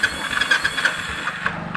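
The electric self-starter motor of a Royal Enfield Bullet cranks the engine in a rapid run of even, ratcheting pulses with a whirring hiss, heard close and alone over a short stretch.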